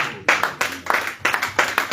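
Church congregation clapping in a slow, regular rhythm, roughly three beats per second, loud and close with strong, sharp hand strikes repeating evenly.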